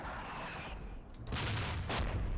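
Artillery rounds landing in the wartime strategy game Combat Mission Black Sea: a low rumbling backdrop, then two heavy, close blasts about half a second apart, each bursting loud and broad before trailing into rumble.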